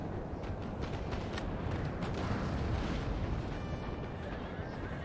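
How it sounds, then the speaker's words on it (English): Cannons fire in a Napoleon: Total War battle, a dense steady roar of distant booms over constant battlefield rumble and noise. "We'll let the cannons do their job."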